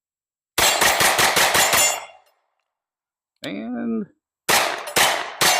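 Ruger LC Carbine in 10mm firing reloads at a steel target: a fast burst of about seven sharp shots, a short spoken word, then a few more rapid shots, loud and close.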